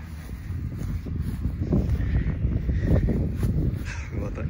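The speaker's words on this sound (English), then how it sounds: "A little bit of wind here." Steady outdoor wind buffeting the microphone during a Kidde ABC disposable fire extinguisher test, a continuous low rumble with gusty swells throughout.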